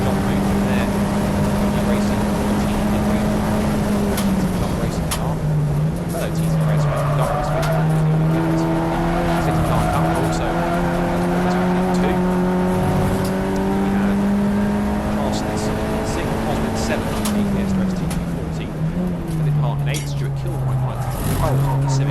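Touring cars race around Silverstone in a BRSCC ClubSport Trophy event, a loud continuous engine drone rising and falling in pitch as cars pass, with a commentator talking over it throughout.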